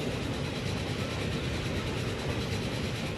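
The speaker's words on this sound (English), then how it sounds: "Look, there's another bright blue train." A train in the Transport Fever video game rolls along its rails with a steady, dense rumble that fills the whole stretch at an even level, with no other sounds.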